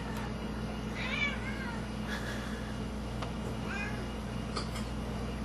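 Several cats meow while being given tuna, with a few distinct, fairly close calls spread across a steady low background hum.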